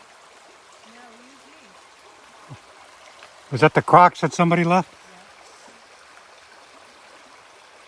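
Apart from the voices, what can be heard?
stream water flowing at a trail crossing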